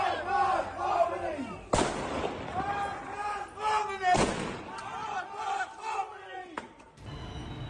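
A large street protest crowd in Iran chants anti-Khamenei and pro-Pahlavi slogans in rhythmic, overlapping waves, broken twice by sharp loud bangs, with shouting voices continuing throughout.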